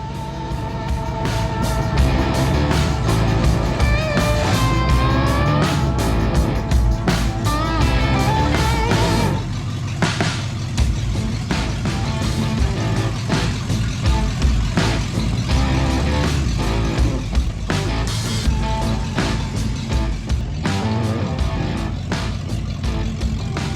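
Ford F-150 pickup on a test drive after its engine was restored: a steady, loud engine drone with shifting rumble and road noise, heard from inside the cab throughout, with a few knocks and no clear speech.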